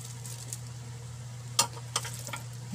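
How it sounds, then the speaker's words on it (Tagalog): Food fries in a pan as salt, pepper and banana ketchup are stirred in, a soft steady sizzle under a low hum, broken by a few sharp scraping clinks of the utensil. "hahaluin lang po natin siya hanggang sa ma-distribute ng maayos yung ating mga nilagay na pampalasa"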